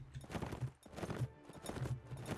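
Cavalry horse hooves in the Mount & Blade Warband video game, a dense, rapid clip-clop of several galloping mounts, steady and fairly near, with no talk over it.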